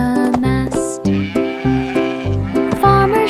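Sheep bleating in a children's nursery rhyme song, set to a bright musical backing, with repeated wavering tones under the melody and loud throughout.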